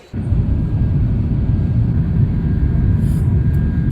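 An airplane at the airport before a flight to Doha: a steady, loud, low engine rumble that starts abruptly and holds without a break.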